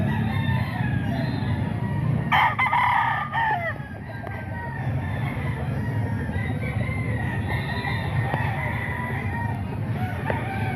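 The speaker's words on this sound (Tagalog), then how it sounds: "Marami rin manok si Bostoni mga boss." Roosters crow repeatedly with hens clucking around them, a busy chorus of poultry close by.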